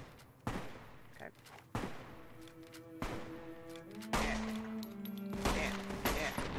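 Gunfire from the video game Fallout: New Vegas cracks out as scattered single shots spaced a second or so apart, punchy and fairly close, with game music tones and a voice speaking between them.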